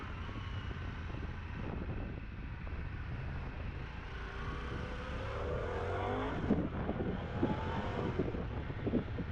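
Harley-Davidson Pan America 1250 Special motorcycle riding along a country road, steady engine drone mixed with wind rush, rising as the bike accelerates through the last few seconds.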